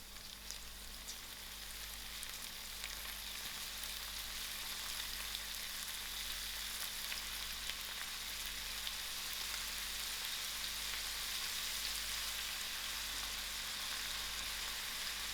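Sliced brinjal fries in a pan with curry leaves, making a steady, soft, even sizzle that keeps going without a break.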